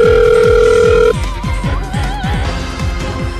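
A telephone is dialed, a steady dial tone sounding for about a second before it cuts off, followed by a warbling electronic ring tone, all over a loud rapid rhythmic pulsing in the background.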